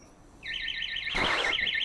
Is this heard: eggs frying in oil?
no